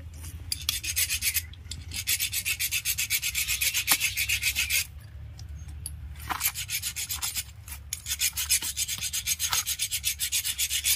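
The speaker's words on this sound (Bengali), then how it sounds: "এই ফাইল দিয়ে মুখটা সমান করতে হবে। ডাউন করতে ঘষো।" A metal file rasps repeatedly across the face of a Kirloskar 95 diesel engine part, steady back-and-forth strokes close up with brief pauses between runs.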